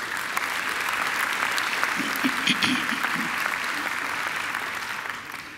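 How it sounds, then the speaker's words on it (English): Audience applause at a university graduation ceremony, a dense, sustained wash of clapping from a large indoor crowd that holds steady throughout and fades slightly at the end. "I think Kevin deserves another great round of applause"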